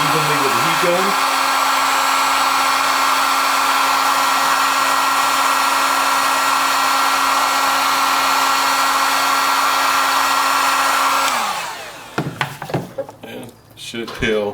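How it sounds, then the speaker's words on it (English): A heat gun blows steadily and loudly while heating a decal on a Honda Navi, a constant whooshing roar that cuts off near the end, followed by a few handling clatters. "Zap it really evenly with the heat gun."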